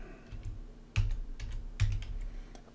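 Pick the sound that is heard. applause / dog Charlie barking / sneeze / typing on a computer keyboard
typing on a computer keyboard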